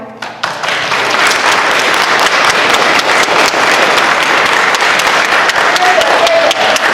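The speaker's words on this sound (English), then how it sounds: "anyone who believes the defendant is innocent, I'd like you to applaud now" A theater audience at a musical breaks into loud applause after a brief hush. It swells quickly into a thick, sustained roar of clapping that holds to the end.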